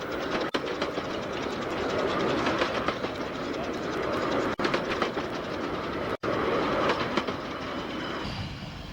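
A steam locomotive pulls a train along the Cleethorpes Coast Light Railway, a steady rumbling roll with wheel clatter heard from a moderate distance, and someone talks faintly over it.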